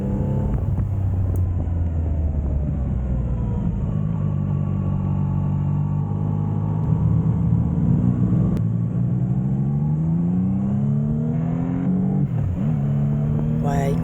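A CFMOTO 675NK three-cylinder motorcycle engine hums steadily while riding, pitch rising and falling with throttle changes and a quick gear shift, heard up close beneath wind noise.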